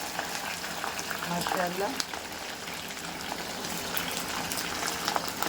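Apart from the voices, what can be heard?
chicken frying in hot oil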